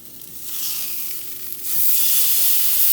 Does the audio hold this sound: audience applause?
no